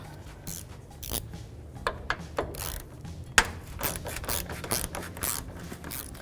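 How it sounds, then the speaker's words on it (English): A ratchet fitted with a 10mm socket backing out fender bolts, irregular bursts of fast clicking with scraping and a few sharp knocks, close and clear, and no one speaking. "10mm socket. Now we're going to take those off."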